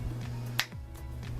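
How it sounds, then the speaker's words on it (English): A single sharp finger snap cracks out near the middle of a brief quiet stretch over a low background hum, crisp and close. "So snap your fingers."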